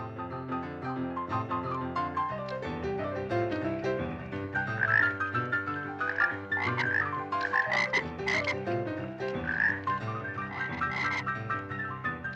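A dense chorus of many frogs croaking continuously and loudly, overlapping throaty croaks and higher chirps in a steady stream with no voices, in a film adaptation of Cannery Row.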